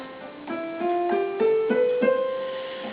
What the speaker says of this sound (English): Major scales are something that you've probably heard many times before, sound like this.